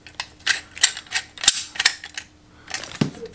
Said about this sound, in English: this piece here that screws onto the shovel head